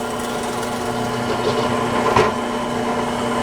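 A drill press runs with a steady motor hum while boring holes in wood, the tone holding constant with a brief surge of cutting noise midway.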